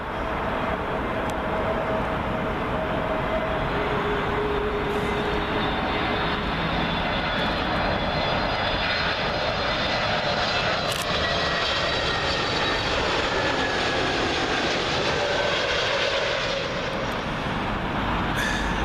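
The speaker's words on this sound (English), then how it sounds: "Next up, an A321neo for British Airways. This one coming in from Lisbon." A British Airways Airbus A321neo arriving from Lisbon and landing at Heathrow on runway 27L, its loud, close jet engine roar sustained and steady throughout, with no voices.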